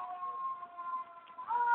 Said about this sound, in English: Is that a siren in your background?